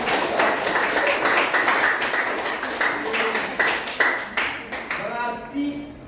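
Clapping from a class of young students during a computer lesson, uneven and fairly close, tapering off after a few seconds, with a teacher talking over it.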